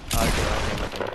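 Gunshots in a video game, a dense, loud burst of rapid firing that blurs into a continuous roar for about a second.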